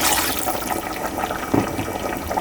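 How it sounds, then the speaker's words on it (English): A cup of water pouring steadily into a pot of beef stew, a continuous splashing rush that stays even and close throughout. "And now we're going to put in a cup of water."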